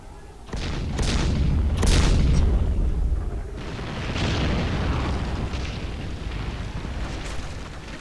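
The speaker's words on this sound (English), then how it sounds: "The second salvo now needs a little bit time because they have to reload." Artillery salvo explosions in the Men of War strategy game: a loud booming impact followed by a second heavy blast, then a rolling rumble that slowly decays, with no voices.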